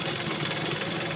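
A sewing machine runs steadily as it stitches blouse fabric along a pencil-drawn line, a continuous close, even mechanical whir with a fast motor rattle throughout and no voices.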